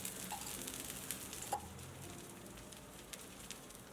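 Lentil dosa frying in a little oil on a low flame, giving a steady, faint sizzle with light crackles and a couple of soft clicks, no voices.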